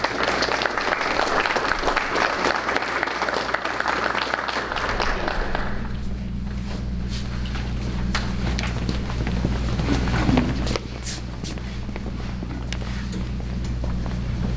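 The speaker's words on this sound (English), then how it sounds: "Let's give them a round of applause." A round of applause at a school board meeting, brisk clapping for about six seconds that then stops, leaving a quiet room hum with a few faint knocks.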